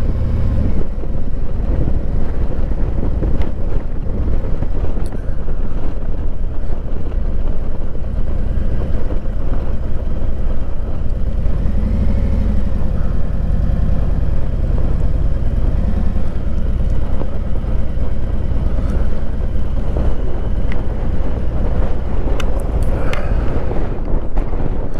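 A motorcycle engine runs steadily beneath heavy, constant wind buffeting on a ride through Fort Smallwood Park, loud and close for the whole stretch with no voice heard.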